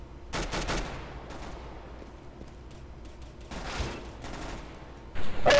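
Gunshots in a competitive shooter match: a loud cluster of rapid shots early on, a second burst a few seconds later, then sharp near cracks at the end, with quieter game ambience between.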